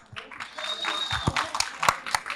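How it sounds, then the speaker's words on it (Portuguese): Audience clapping as a speaker is welcomed at an evening tech talk on software development for non-programmers, with a moderate crowd of claps in an indoor hall and voices mixed in. "Palmas aí, galera."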